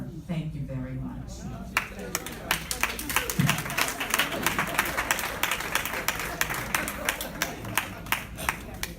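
Applause from the audience at a county council meeting rings out in a hall, steady clapping over several seconds from a room full of people, with a voice speaking over it.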